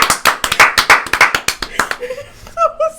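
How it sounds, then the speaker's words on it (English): A single person clapping close by, about a dozen sharp, evenly paced claps, followed by a short burst of talking and laughter. "I'm gonna give you an applaud for that."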